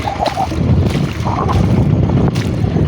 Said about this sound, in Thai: ตอนเย็นนี่ลมดีจัง